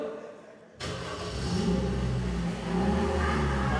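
Hypnotized volunteers at a high school comedy hypnosis show imitate starting a car with their voices, a sudden burst of many mouth-made engine revs and vroom noises that hold loud and steady, swelling again near the end.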